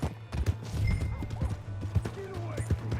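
Horse hooves clip-clop in Red Dead Redemption 2 with irregular, fairly close hoofbeats among game sounds, brief mechanical clatter and a faint whinny.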